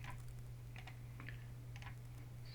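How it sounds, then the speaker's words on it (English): Keys clatter on a computer keyboard as a website address is typed, in quick short bursts over a low steady electrical hum. "you can just type in your website"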